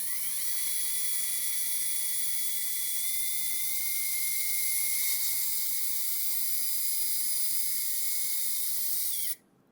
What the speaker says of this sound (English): Drill a core hole using the drill guide and a twist drill through the center of the oblong hole.